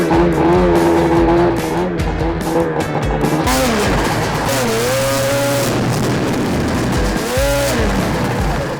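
A 1000cc X-Games race snowmobile engine screams up and down in pitch, loud and close, with sharp rises and falls as it is pushed hard.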